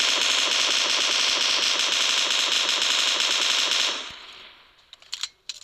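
Sustained rapid automatic gunfire from a weapon in a video game, a loud dense burst of shots that rattles continuously for about four seconds, then cuts off, leaving a few faint clicks and small noises.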